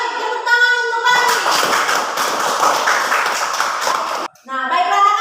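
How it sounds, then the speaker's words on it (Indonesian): A classroom group claps in a dense, brisk burst of applause lasting about three seconds, with someone speaking just before and right after it. "tepuk tangan untuk kami"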